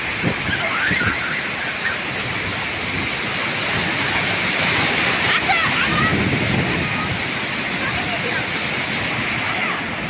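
Sea waves wash onto a beach at Napoli, a continuous broad rushing surge that swells and recedes without pause, with people talking over the surf throughout.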